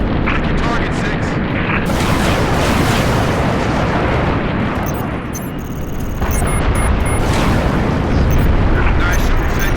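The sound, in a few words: artillery fire in the video game Halo Reach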